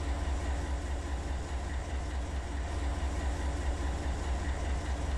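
A 12,000-ton coal train in Run 8 Train Simulator starts to roll, producing a steady, dense low rumble and broad wheel-and-rail noise that stays constant throughout with no voices.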